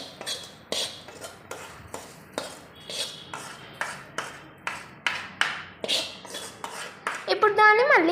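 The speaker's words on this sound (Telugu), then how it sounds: "ఇప్పుడు మనం చేసుకున్న పోపుని ఈ కలుపుకున్న మిశ్రమంలో పోసుకోవాలి" A spoon mixes cucumber chutney with its tempering in a metal bowl, giving about a dozen evenly spaced metallic clinks and scrapes, close and clear, with a faint tonal sound near the end.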